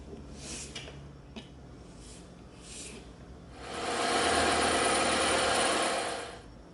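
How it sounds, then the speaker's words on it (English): A bandsaw notches a piece of 10mm EVA foam, starting with a few faint taps and handling noises before the blade's steady whirring buzz rises for about three seconds and then fades. "we got that little notch cut out using the bandsaw."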